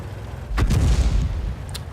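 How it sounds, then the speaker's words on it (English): Artillery fire in the World of Tanks video game, heard as a single dull boom with a short rumbling tail over steady in-game ambience. "Artillery fire, maybe?"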